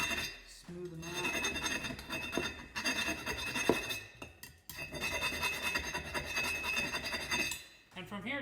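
A round file rasps inside freshly drilled bolt holes in a wheel, smoothing them in repeated scraping strokes, close and fairly loud, in two long bursts split by a short pause.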